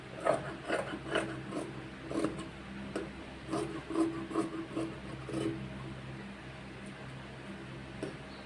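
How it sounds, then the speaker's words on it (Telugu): Scissors cut through cloth along a garment neckline during stitching work, giving a series of soft crisp snips and rasping rubs in uneven clusters, close and fairly quiet. "దీని ప్రకారం సెంటర్లో ఉండే క్లాత్ని కటింగ్ చేసేసుకుంటున్నాను నేను"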